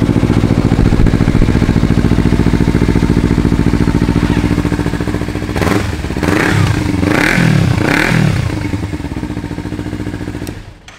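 A 2016 Kawasaki Ninja 300 ABS, a light sport motorcycle, runs loud and close: a steady engine drone gives way to several sharp revs and falling blips, then a quick cut near the end.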